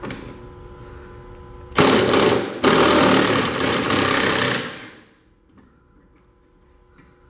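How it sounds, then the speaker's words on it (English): Bolts being loosened on the gas tank straps under a 1993 Lincoln Mark VIII, heard as a loud, harsh burst of power-tool rattling lasting about three seconds with a short break, then dropping to quiet. "We're going to try and get our bolts loose."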